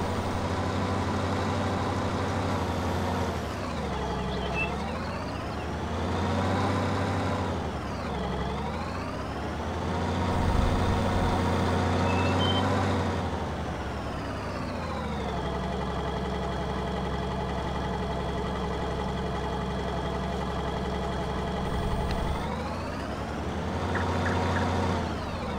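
A small tractor engine runs steadily in a farming video game, a loud continuous drone whose pitch rises and falls repeatedly as it revs up and settles back down.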